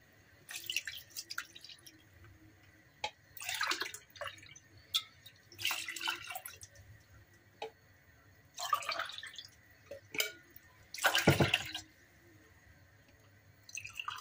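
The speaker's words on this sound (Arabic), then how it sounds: "وغادي ندير واحد 5 ديال الكيسان ديال الماء، غادي نعبرهم قدامكم" Water poured in several irregular splashing bursts, cups of water going into a pot for homemade raibi yogurt, quiet between pours, fairly close, no talk.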